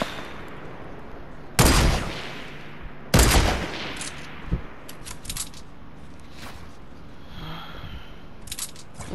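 Sniper rifle fire in Fortnite, two sharp loud cracks a couple of seconds apart followed by fainter scattered shots and game sounds.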